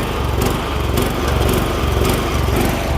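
A John Deere lawn tractor engine running steadily just after a slow start. A loud, close, continuous mower-like drone holds at an even pitch with no voices over it.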